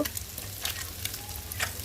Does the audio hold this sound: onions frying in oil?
yes